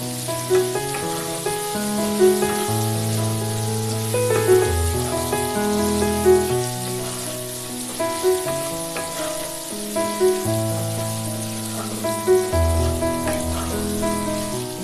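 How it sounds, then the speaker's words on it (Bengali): Potatoes frying in hot oil in a pan, a steady sizzling hiss that runs the whole time beneath sustained tonal background sounds, with no talking. "লাল লাল করে আলুটা ভাজতে হবে।"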